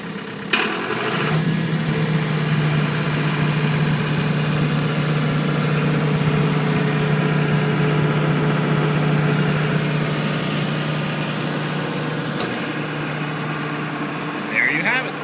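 A MultiQuip 75 kVA (45 kW) diesel generator runs with a steady low drone that holds loud and even throughout, its engine note sustained at generating speed with a brief knock near the end.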